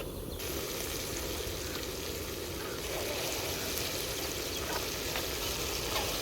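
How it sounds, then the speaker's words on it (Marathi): Goat brain frying in a pan at an outdoor farm party, a steady close sizzle that holds evenly throughout with faint clatter and no talk. "तोपर्यंत भेजा फ्राय करू आपण एकीकडं"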